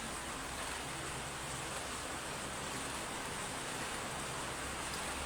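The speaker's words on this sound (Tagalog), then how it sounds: "Ang lakas ng ulan." Heavy rain at night makes a dense, unbroken hiss that fills the whole stretch, steady and even with no voices above it.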